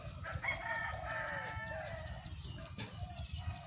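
Village chickens cluck and a rooster crows across an open rural yard, the calls moderately distant and overlapping against a soft steady background hum.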